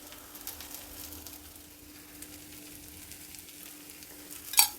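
A pea masala roti cooks in a pan over a medium flame, giving a steady, soft sizzle that continues alone with no talking, ending in a brief louder clatter.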